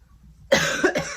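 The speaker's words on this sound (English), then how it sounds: "Apologize for the coughing. I cough a lot." A single close, harsh cough bursts out in two quick hacks after a moment of near silence.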